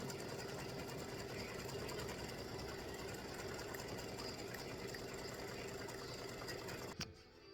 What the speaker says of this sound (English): And I'm just stitching it because it gives it an extra layer of stitching.